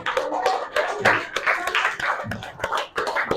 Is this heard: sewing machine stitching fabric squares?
no